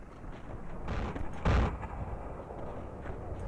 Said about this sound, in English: Long-range sniping shot.